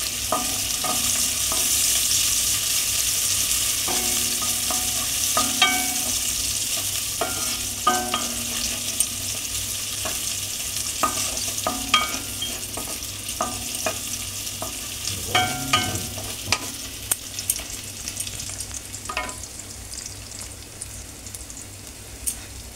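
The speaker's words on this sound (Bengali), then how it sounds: "বাকি পেঁয়াজ কুচিটা দিয়ে এবার খানিকটা ভাজা হলে, পেঁয়াজ কুচিটা ব্রাউন হয়ে এলে, বাদামি হয়ে এলে আমি তার মধ্যে দিয়ে দেবো" Chopped onion and ginger fry in a pan for ridge gourd dolma, a constant crackling sizzle close by with repeated clattering stirs and spatula scrapes scattered through the stretch, no talking.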